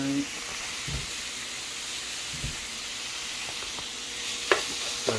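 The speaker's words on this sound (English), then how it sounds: "Stir this up." Food for a spaghetti meal, seasoned with salt and pepper, is stirred while sizzling in a pan: a steady close hiss with a few soft utensil taps and scrapes.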